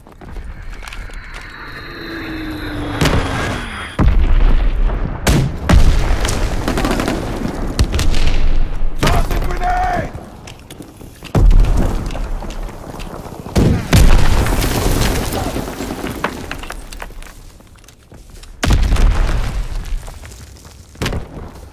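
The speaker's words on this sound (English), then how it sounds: "We have eyes in the sky. Dropping Azon bomb." Heavy booms and bursts of gunfire from a Call of Duty WWII match, with Azon bombs exploding in loud repeated blasts spaced a few seconds apart amid rattling shots and battlefield rumble.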